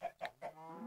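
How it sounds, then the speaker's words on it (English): Three quick, soft clucks from a chicken in the Minecraft video game, crisp and close together. "So they have two chickens in there."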